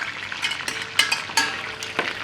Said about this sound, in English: A little bit of oil. Then we saute this garlic.